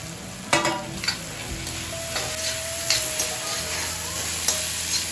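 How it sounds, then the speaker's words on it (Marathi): Chopped bell pepper goes into spicy homemade keema frying in a pan, with a steady sizzle and repeated clinks and scrapes of the spoon against the pan as it is stirred. "तर आता भोपळी मिरची टाकते, शिमला मिरची"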